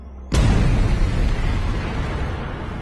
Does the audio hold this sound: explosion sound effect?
yes